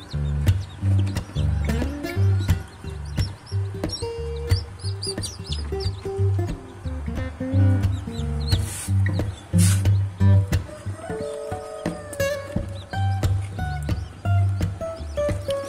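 Chicks and hens near an egg incubator, loud overlapping clucking and bright repeated peeping chirps close by, busy and continuous with brief louder bursts.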